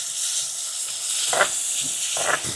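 Two hundred grams of cashews frying in melted butter for aval ladoo, a steady close sizzling hiss with a couple of brief louder crackling bursts.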